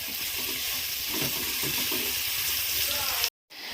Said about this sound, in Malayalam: നമ്മുടെ സവോള ഒന്ന് വഴറ്റാനായിട്ട് ഇടാം